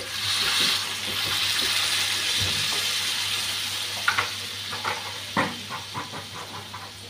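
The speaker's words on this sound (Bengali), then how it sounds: "এখন ঝোলটা দিয়ে দিচ্ছি।" Gravy poured into a pan for prawn and potato curry: a rushing pour with hissing steam for about four seconds, then a settling sizzle with a few sharp pops and crackles, close and loud, no talking.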